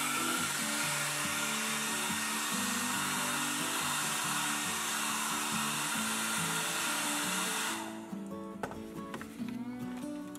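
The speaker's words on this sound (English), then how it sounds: "a trusty hair dryer." A hair dryer blows with a loud, steady roar for several seconds drying a carved butternut wood piece, then its pitch and strength drop slightly near the end.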